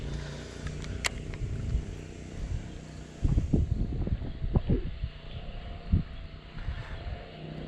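Steady gusty wind at a bass-fishing bank buffets the microphone with low rumbling bursts, growing rougher midway, with faint background noise and no voices.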